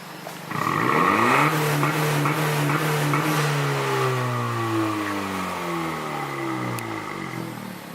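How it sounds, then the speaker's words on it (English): Engine of a 2018 Honda Civic Si revved hard toward redline, a loud close roar that climbs quickly and then winds down over several seconds, with no talk. "I could rev it like redline it if you want"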